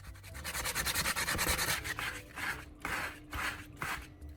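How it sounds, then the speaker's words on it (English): Rapid back-and-forth wet sanding of plastic with 120-grit sandpaper, a fast even rhythm that slows into longer separate strokes, fairly close and quiet. "Add water to keep the surface wet and continue sanding with 120 grit."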